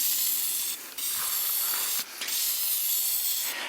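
Spray paint can hissing in the engine bay of a 1969 Ford Mustang with a 302, close and loud in long continuous bursts, with two brief gaps between sprays and no talk.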